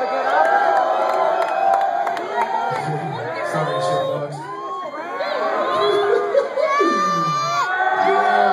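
A live hip-hop concert crowd at a 2012 tour show cheers, whoops and shouts loudly and continuously throughout, with individual yells rising above the roar.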